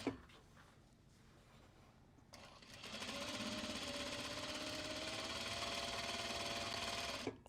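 A sewing machine runs steadily as fabric bags are stitched, a sustained close mechanical whir starting after a brief quieter stretch and cutting off near the end.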